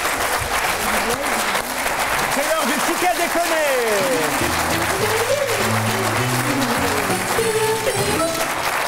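A French TV studio audience applauds steadily and loudly throughout, a dense wash of clapping under a presenter's voice and a musical jingle that rises in the second half.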